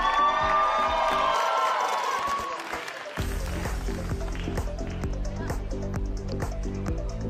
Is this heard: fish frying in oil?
no